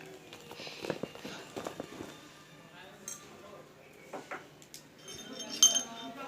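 Small metal spoon and little glass tumbler for a Laddu Gopal deity clinking together as they are packed for travel, several light scattered clinks and taps, the sharpest near the end, with faint handling noise between.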